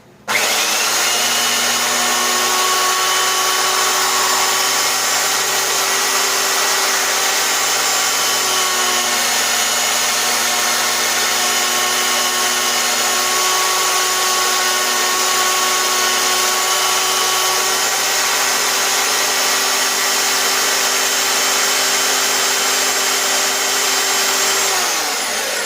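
A power tool grinds and sands steel brackets in one unbroken, loud, steady whine that lasts about 25 seconds. It starts abruptly and holds an even pitch throughout, with no voices.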